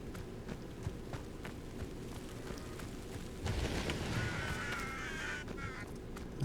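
Startled birds in the video game Hogwarts Legacy, a flurry of wings and faint calls rising midway over a low ambient game backdrop, fairly quiet.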